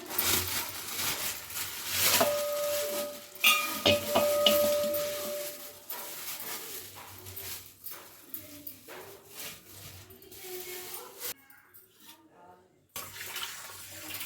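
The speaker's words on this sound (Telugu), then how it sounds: "చికెన్ అయితే కడుగుతున్నా" Raw chicken being washed in a bowl of water in a home kitchen, with splashing, rubbing and running-water sounds that come and go in uneven bursts, close and moderately loud, with brief clinks and quieter pauses between.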